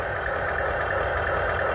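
Motor of a remote-control Russian T90 tank model that fires plastic pellets and puffs smoke, running steadily: a constant close mechanical whir and hum with no pauses and no talk.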